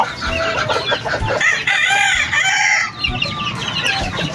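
White Kelso chickens and chicks clucking and chattering loudly and close during wet feeding, with overlapping peeps, clucks and crow-like calls throughout.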